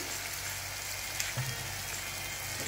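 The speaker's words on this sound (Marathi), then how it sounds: "हे मंद आचेवर तळून घ्यायचे आहेत जेणेकरून आतपर्यंत सगळं व्यवस्थित तळलं जाईल।" Chana dal bhaji fritters deep frying in oil over low heat give a steady, soft hiss and fine crackle throughout, fairly quiet and unbroken, with no voices over it.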